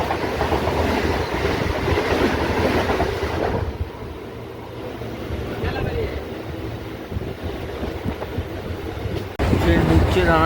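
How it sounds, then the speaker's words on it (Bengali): A train pulls into Ranaghat Junction with a rumbling, wind-buffeted roar that drops quieter midway, then rises again near the end, with voices faintly present. "ট্রেন ঢুকছে রানাঘাট জংশনে।"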